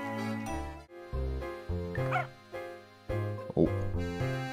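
Short, synthesized dog barks and yips from the video game Professor Layton and the Curious Village, several bursts set against a looping melodic game tune with a jingling sound effect.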